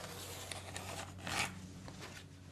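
A pencil draws a shape onto an acoustic guitar's wooden board, producing soft, faint scratchy strokes with one brief louder rub in the middle, close up in a quiet workshop.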